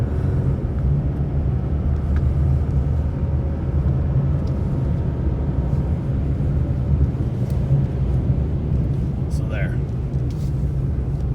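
A Chevrolet Colorado ZR2 pickup accelerating in off-road mode, a continuous low engine and drivetrain rumble with road roar holding steady throughout, heard from inside the cab.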